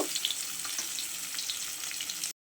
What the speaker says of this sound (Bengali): পেঁয়াজ কুচিটা একটু লাল লাল করে ভেজে নেব